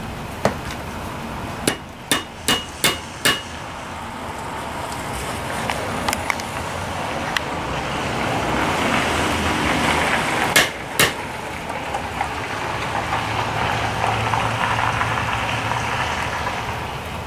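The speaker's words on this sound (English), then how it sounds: "that side of this pin is tapered, so that's the side we'll try and hammer in here" Metal hammer blows drive a tapered pin into a Briggs and Stratton riding lawnmower engine, about ten sharp close strikes in groups, mostly early and near the middle, over a steady low background hum.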